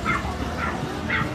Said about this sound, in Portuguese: Olha os cachorrinhos